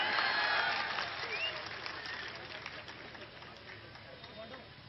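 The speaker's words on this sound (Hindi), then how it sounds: "ठोको ताली।" Large crowd clapping and cheering at a political rally speech in Bhavnagar, Gujarat, loud and sustained at first, then easing to a steady applause that continues to the end.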